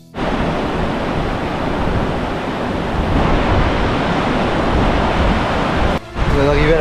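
Sweden's highest waterfall, in Fulufjället National Park, with snow falling, roars in a steady, loud, close wash of rushing water that drops out for a moment just before the end.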